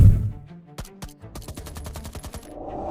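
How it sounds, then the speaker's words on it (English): AK-47 rifle fire and answering police handgun shots in a bank shootout: a dense, loud string of sharp cracks and rapid bursts, with no talking. "A violent gunfight erupted instantly."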